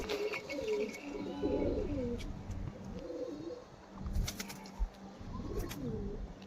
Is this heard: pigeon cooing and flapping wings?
yes